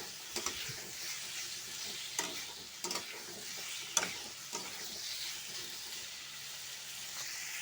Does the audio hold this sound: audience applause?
no